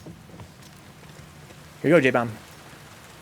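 A steady patter of rain falls outdoors in the video game The Last of Us Part II, soft and continuous beneath a brief burst of speech.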